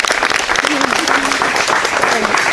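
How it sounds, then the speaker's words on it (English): Wedding guests applaud during a ceremony at a restaurant, a burst of close, lively clapping with voices and cheers mixed in throughout. "Round of applause to Dad, ladies and gentlemen"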